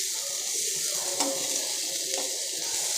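A chopped tomato sautéing in a pan for manathakkali keerai koottu makes an even, close sizzle with a couple of soft stirring scrapes and no talking.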